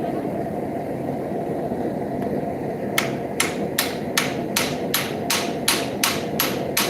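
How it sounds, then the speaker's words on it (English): A curved-face ball peen hammer strikes metal in a steady rhythm, about a dozen sharp ringing blows over a constant low engine-like hum, while forging railroad spikes into tools. "I'm going to use a ball peen hammer with a curved face."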